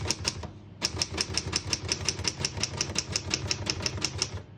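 A 1931 Smith-Corona Flat Top portable typewriter being typed on, with crisp key strikes in a quick, even run after a short pause, close and clear with no talking.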